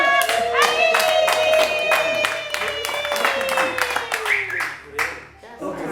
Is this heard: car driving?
no